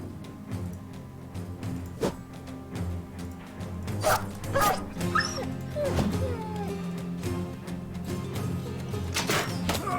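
War dogs in the video game Battle Brothers bark and whimper repeatedly over a steady low game backdrop, with sharp yips bursting out at intervals across the scene.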